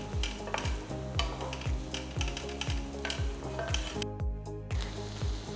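Chopped onions and slit green chillies sizzle steadily in a pan, with a spoon stirring in a regular scraping rhythm, close and continuous with no talking.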